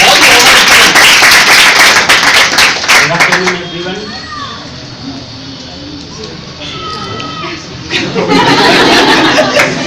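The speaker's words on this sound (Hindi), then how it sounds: "ताली बजा जरा हेमंत सोनी" Clapping and cheerful chatter from a small group, loud and dense at the start, fading under quieter talk in the middle, then rising again near the end.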